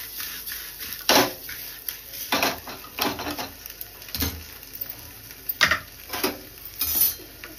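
A spoon scraping and tapping in a pan while stirring egg curry with coriander powder, irregular clinks and scrapes close by over a steady high electrical whine, no talk.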